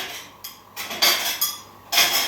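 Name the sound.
dishes being put away after washing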